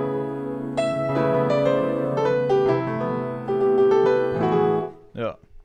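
A layered Nord keyboard patch stacks a hammer piano sample, an 80s FM piano and a pad, playing a flowing chord phrase for several seconds before a brief voice cuts in at the end.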